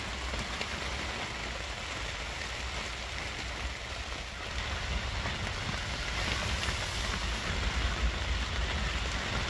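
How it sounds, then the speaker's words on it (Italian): Heavy rain pounds steadily on a tarp stretched over a camper, a dense, continuous patter close by that swells slightly louder toward the end, with no voices. "pioggia battente in questo momento."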